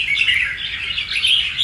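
A red-whiskered bulbul (chim bổi), a dominant flock leader from the limestone mountains of Lạng Sơn, sings a bright, close, continuous warbling phrase of quick chirps without a pause and with no talk over it.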